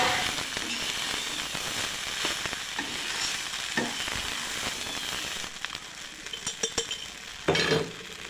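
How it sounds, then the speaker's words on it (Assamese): Eggs fry in a kadai (wok) for a cabbage and egg fried rice, giving a steady close sizzle with intermittent scraping and clinking stirs that grow louder near the end. "এইখন কেৰাহীতে কণী ভাজি লৈছোঁ"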